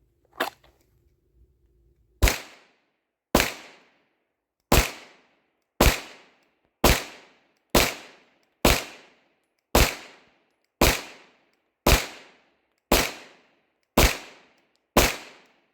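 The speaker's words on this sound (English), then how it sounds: "We're going to start off by shooting a little steel. See how this Combat Master does on the plate rack." A Glock 34 Combat Master pistol fires on a steel plate rack at the range. About thirteen loud, sharp shots land at an even pace roughly a second apart, each followed by a short ringing decay, with no talking.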